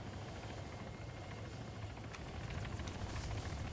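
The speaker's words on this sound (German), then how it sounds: "der Heli ist am Steg. Ich denke mal, der landet er auch." A helicopter from the game Arma 3 Altis Life comes in to land at a jetty: a steady, moderately loud rotor drone throughout, growing slightly stronger with a whooshing blade chop in the second half, with no talking.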